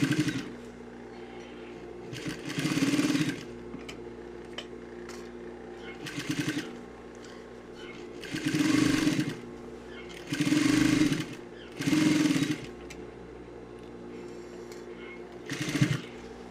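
A sewing machine stitches the side seams of trousers in several bursts of steady whirring, close and fairly loud, separated by pauses while someone talks in the background.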